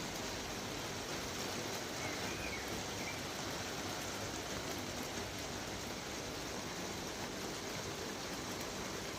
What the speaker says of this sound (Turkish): İyi yağıyor.